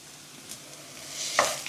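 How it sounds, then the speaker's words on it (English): Homemade beef chorizo, a quarter pound, hits a hot pan with softened onions and sizzles briefly, a faint crackle building to a sharper hiss near the end, heard up close with no talking. "So then we're going to go ahead and add the chorizo"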